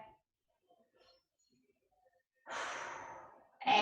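Deep breathing during a home Pilates stretch: a long quiet pause, then one drawn-out exhale that fades away, followed by the start of another strong breath, close and clear.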